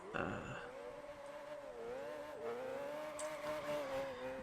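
A car drifting, its engine revving with a steady, wavering tone that rises and falls, and tire squeal mixed in, loud and continuous throughout.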